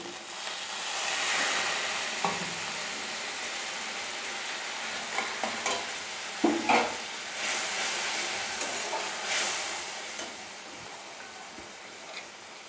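Cumin, chilli and turmeric powders are cooked down with a splash of water in a pan for fish kalia, making a steady soft sizzle and hiss with scattered scraping stir knocks, no talk.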